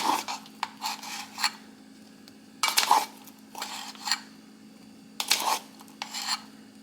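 A metal measuring teaspoon scrapes and clinks against a bowl while baking powder is spooned in for a cake, making short raspy scoops and light taps in separate bursts, fairly close and quiet.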